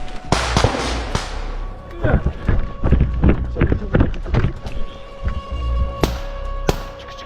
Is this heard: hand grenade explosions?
yes